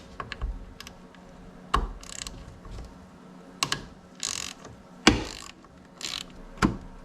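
Socket ratchet loosening chain case bolts on an early-2000s Ski-Doo Formula Deluxe snowmobile, giving short bursts of rapid clicking at irregular intervals, close and crisp.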